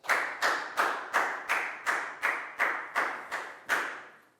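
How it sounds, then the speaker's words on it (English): Children in a Year 4 maths class clap together in time for a classmate, giving about ten sharp, evenly spaced claps that ring out clearly with no talking over them. "a big round of applause for Prau, please, guys"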